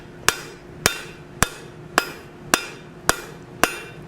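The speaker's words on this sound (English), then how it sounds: "All right, cross peen of the hammer." Seven sharp metallic strikes from the cross peen of a hammer on steel, evenly spaced about half a second apart, each ringing briefly before the next blow.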